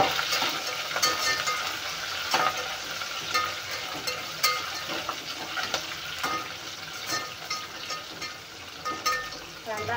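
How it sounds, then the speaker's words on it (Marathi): Onion and green chillies sauté in hot oil with a steady, fairly soft sizzle, broken by occasional spoon clinks and stirring scrapes, heard close up. "कांदा आणि हिरव्या मिरच्या छान तेलात परतून घ्यायच्या."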